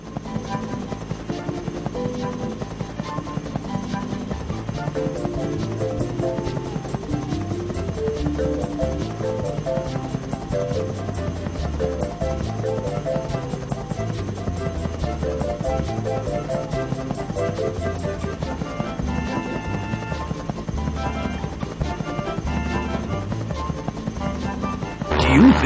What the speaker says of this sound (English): The biplane could be trying to help you.